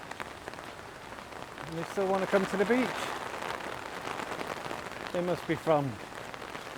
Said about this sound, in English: it's pouring down